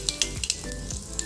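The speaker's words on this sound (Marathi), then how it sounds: "मोहरी तडतडली का याच्यामध्ये जिरे टाकून घेते" Mustard seeds and cumin sizzling in hot oil in a pan while cooking a spicy black chickpea curry, with a close, crackling hiss and a few sharp pops and stirring scrapes.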